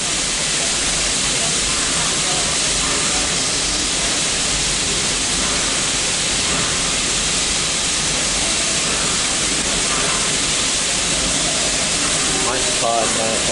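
Steam locomotive A66 on a steam rail train gives off a loud, continuous broadband hiss of escaping steam that roars steadily without a break.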